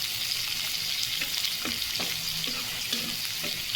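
Onions frying in a pan for a single-egg curry, a steady close sizzle with light stirring scrapes now and then, no voices over it.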